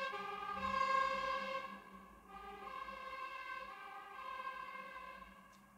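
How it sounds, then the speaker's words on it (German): A distant emergency siren wails in long, rising and falling tones, fairly faint, with no talking. "Oje, schon wieder eine Sirene."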